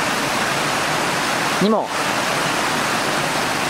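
River flowing beside a campsite tent site at Doshi-no-Mori campground, a steady broadband rushing of water filling the whole clip, with a brief spoken word from a man near the middle.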